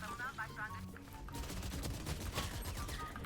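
Gunfire in the shooter game Valorant, a run of rapid shots following a quieter start, fairly faint and under a mixed game soundscape.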